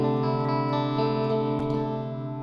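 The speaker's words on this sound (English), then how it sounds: "There's a little bit of reverb on this amp itself" An electric guitar plays through an amp simulator in Reason with a touch of the amp's own reverb, sustained distorted chords ringing loud and steady with a few fresh attacks and no talking.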